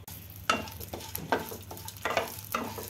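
Cardamom pods, melon seeds, garlic cloves and whole cloves sizzle in hot oil over a low flame, a soft steady hiss punctuated by repeated stirring scrapes, close and fairly quiet with no voices.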